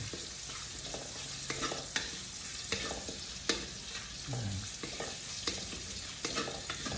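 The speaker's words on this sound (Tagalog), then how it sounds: "Naglagay tayo ng ilang pirasong bell pepper para lumabas yung lasa niya. Diprito natin." Bell pepper pieces sizzle steadily in a hot pan, with scattered clinks and scrapes of stirring over the constant frying hiss.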